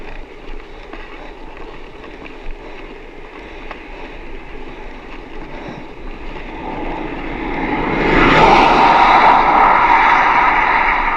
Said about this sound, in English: Apart from cars like that are going really fast.